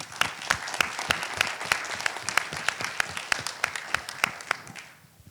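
A conference audience on a physics panel applauds its organizers, a smaller crowd's clapping with distinct sharp individual claps over a continuous patter that fades out at the end.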